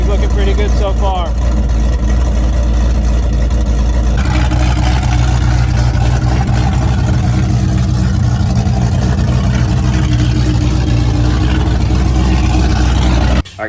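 A 331 cubic inch V8 in a Fox-body car idles loudly with a deep, lumpy rumble, steady throughout, while someone talks over it, before it cuts off abruptly at the end.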